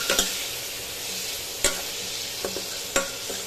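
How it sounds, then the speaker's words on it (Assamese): A fish curry simmers and sizzles in a pan as leftover potato-boiling water goes in, with a steady frying hiss punctuated by several sharp spoon knocks and scrapes against the pot, no speech. "মই এই আলু সিজোৱা পানীকণো ইয়াতে দি দিম"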